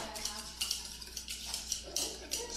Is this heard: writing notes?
no